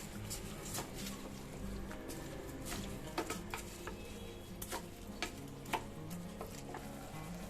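Rice frying with garam masala in a pot, a quiet continuous sizzle broken by a series of sharp scraping and tapping strokes from a stirring spoon, close and uneven in rhythm.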